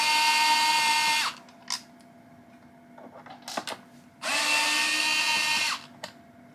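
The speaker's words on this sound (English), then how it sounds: "Now you need to remove some of the major square screws here." A power screwdriver spins out screws from a Xiaomi robot vacuum G1, two sustained close whirring runs that each wind down in pitch, with small clicks and handling sounds in the gap between.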